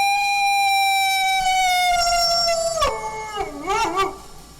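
A long, loud, sustained howl that slowly falls in pitch, then breaks into wavering, yelping rises and falls before fading, heard alone and near.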